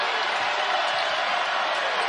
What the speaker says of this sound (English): Crowd starting to make some noise.